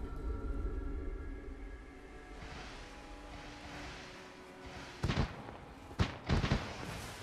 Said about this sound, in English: A little fireworks show.